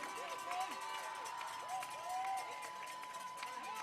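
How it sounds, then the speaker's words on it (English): Crowd at a school sports meet cheers a runner in a junior boys' 1,500 metre race, a steady roar of voices with an announcer talking over it throughout. "Let me hear you, Elizabeth. Cheer him on to the end."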